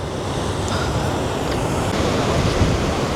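Ocean waves and a sea breeze at Galle Face beach in Colombo at night, a steady, dense wash of surf and wind noise filling the whole stretch with no talking.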